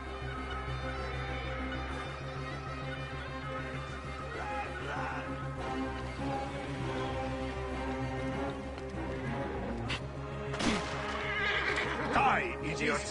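A horse in Assassin's Creed Origins gives a loud, close whinny over a bed of game music, with hoof clip-clops and ambient effects swelling near the end.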